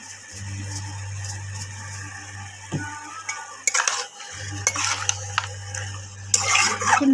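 Chicken rezala with freshly added salt is stirred in a pot, with scraping and clinking of a utensil over a low steady hum that briefly drops out, and no talking.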